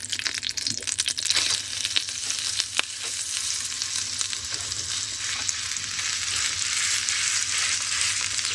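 Food sizzles and crackles steadily in a heated pan as it is laid in and spread out, a dense continuous fry hiss with occasional sharper pops, close and fairly loud, with no talking.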